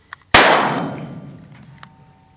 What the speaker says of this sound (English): I think I heard metal ting